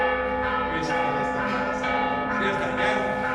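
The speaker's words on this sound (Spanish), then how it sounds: "Ya se enojó el descendiente de Mayor y puso las campanas." Church bells ring continuously and loudly, their layered tones overlapping, with a faint voice audible underneath.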